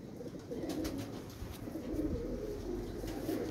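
Plain pigeons coo softly and continuously, faint and close together, with a low background hum.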